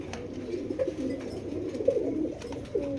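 Club racing pigeons kept in a cage on a pigeon farm coo steadily, their low, repeated calls overlapping in a close, continuous murmur with a few louder coos standing out.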